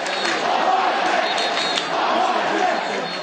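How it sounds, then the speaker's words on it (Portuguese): Cruzeiro supporters in a football stadium chanting a player's name, a loud, sustained roar of many voices from the stands, steady and rhythmic throughout, with a commentator talking over it. "a torcida cruzeirense perdeu a paciência e gritou o nome de Roger"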